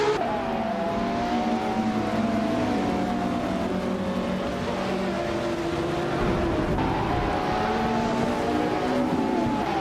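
A 1995 McLaren F1 GT-R race car engine in a racing video game drones steadily at high revs, with shifting tonal whine and small pitch changes throughout, loud and continuous with no talk.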